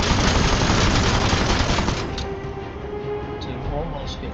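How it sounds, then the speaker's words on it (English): Rapid, sustained machine gun fire in the game Aether & Iron, a dense loud burst that runs continuously for several seconds before easing slightly, with a voice talking over it. "Then we will use our"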